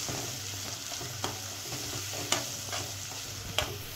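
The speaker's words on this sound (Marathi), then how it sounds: "याच्यातच आता मी थोडासा टोमॅटो घालून घेते, कट केलेला आहे। आणि हे चांगलं आता परतून घ्यायचं तेल सुटेस्तोपर्यंत।" Chopped tomato frying in oil with a chana masala base, a close, steady sizzle broken by a few sharp clicks of a spoon stirring against the pan, with no voices.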